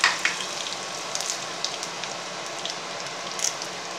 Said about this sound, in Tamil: அதுக்கப்புறம் கடலைப்பருப்பு கொஞ்சம் போட்டு, அதில் வந்து காஞ்ச மிளகாய் வச்சுருக்கோம்ல அதை போட்டுக்கணும்